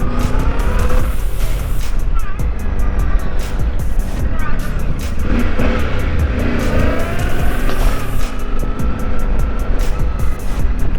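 A new 2025 Yamaha Tenere 700 motorcycle being ridden while still in break-in, steady loud engine and wind roar throughout, with a voice talking over it.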